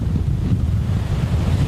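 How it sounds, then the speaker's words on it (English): Wind blowing on a beach during Hurricane Irma, heard as a loud, steady low roar buffeting the microphone with surf rumbling underneath, continuous and close, with no voices. "it's a little windy out here"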